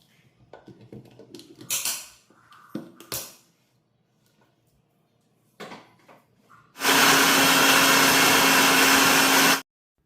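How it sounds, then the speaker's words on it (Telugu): A mixer grinder powdering coriander seeds and spices roars loudly and steadily for about three seconds, following scattered clinks and knocks of jars and utensils. "సో పౌడర్ చేసుకుందామనేసి ఇంకా మిక్సీలో వేసి పౌడర్ చేస్తూ ఉన్నాను"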